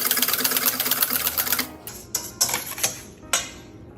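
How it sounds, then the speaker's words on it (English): A whisk beats egg yolk in a bowl for aioli to go with bourride fish stew: a quick, steady metallic clatter for under two seconds, followed by several slower, separate strokes. "I'm gonna go ahead and whisk it together."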